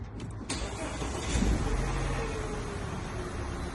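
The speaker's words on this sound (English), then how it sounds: "now I'm going to start the vehicle" An Audi A5's engine cranks briefly and catches, then settles into a steady, close idle that runs alone to the end.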